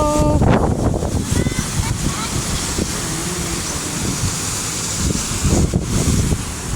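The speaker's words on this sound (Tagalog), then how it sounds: "Ang lakas ng hangin" Strong wind buffets the microphone with a steady roar at the beach, waves faintly beneath, while a person talks over it.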